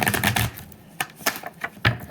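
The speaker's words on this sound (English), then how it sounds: "Let's do 2 more shuffles and get to it here." A deck of tarot cards is shuffled by hand, giving a quick riffle of crisp papery flutters and then a few sharp separate taps, close to the microphone with no talking.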